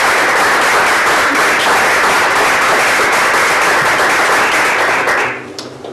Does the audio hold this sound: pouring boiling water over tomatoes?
no